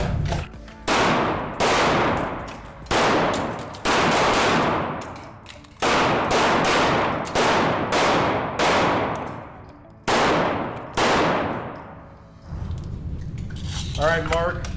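Pistol gunshots during a defensive shooting drill, fired in quick pairs and short strings of loud, sharp cracks with ringing decay, about fifteen shots with brief pauses, ending in mechanical handling noise.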